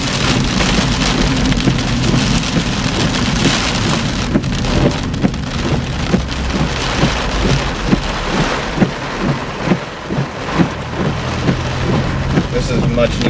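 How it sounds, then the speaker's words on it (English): Heavy rain pounds down during a severe summer thunderstorm in Cambridge City, Indiana, a loud, dense, continuous roar of drops drumming on surfaces, with no voices over it. "This is much needed rain."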